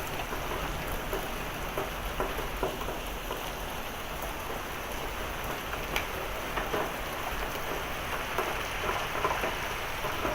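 Heavy, steady rain pours down during a severe June thunderstorm with hail, a dense continuous hiss of close rainfall with faint low rumbles of thunder underneath, no voices.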